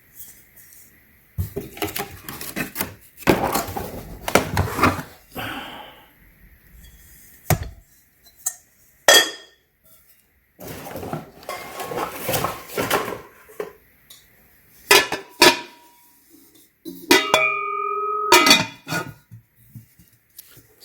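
Our Place cookware lids handled during an unboxing, scattered clinks, taps and scrapes of metal and glass in separate bursts, with a couple of ringing tones near the end.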